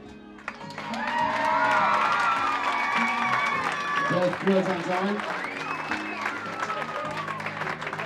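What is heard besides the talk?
audience applause and cheering for Bev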